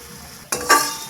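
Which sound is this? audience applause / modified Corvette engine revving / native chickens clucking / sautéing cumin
sautéing cumin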